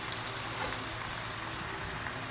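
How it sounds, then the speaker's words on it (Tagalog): Heavy rain in the Roblox game Brookhaven pours down as a dense, constant hiss with no pauses, filling the whole moment at an even level. "Lakas ng ulan, mukhang babaha."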